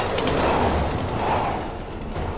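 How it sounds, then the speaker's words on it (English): A train rushes past in the zombie video game Resident Evil 6, a loud, steady roar of rolling wheels and rumble that swells and slowly eases over a couple of seconds, with no voices. "Train! Train! Train! Train!"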